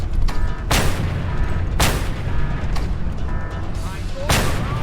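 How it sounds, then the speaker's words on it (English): Grenade blasts in the video game Just Cause 2 boom out in three heavy bursts about a second apart, with gunfire crackling between them and a player talking over the chaos. "Who the hell is just tossing grenades?"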